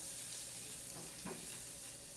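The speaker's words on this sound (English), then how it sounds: "Ooh, listen to that sizzle." A quiet, continuous sizzle and hiss of spices frying in hot oil, steady throughout with no voices.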